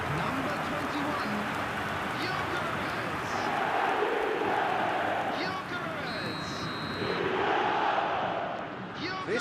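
Stadium crowd noise in the eFootball video game, a dense, continuous roar that swells and dips over several seconds, carried along under steady commentary talk.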